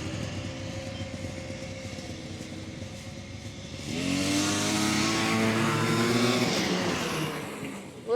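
Vintage snowmobile engine at a fall shakedown ride, idling roughly and then revving hard for several seconds to clear out, a loud close buzzing whine that climbs in pitch and eases off.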